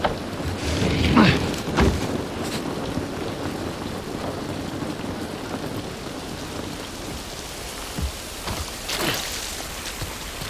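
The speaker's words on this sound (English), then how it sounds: "This rain ain't gonna do us any good." Steady rain falls in The Last of Us Part 1, heard outdoors in the outskirts as a continuous wash of drops with a few louder splashes and thuds, with no voices over it.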